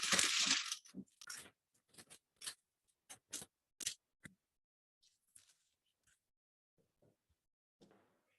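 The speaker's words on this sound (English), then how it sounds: "you can just grate it on a microplane, and it will be similar to what you would have with soap" A block of homemade cocoa butter is grated on a microplane in a quiet kitchen, a run of short dry scraping strokes, brisk at first and then sparse and faint.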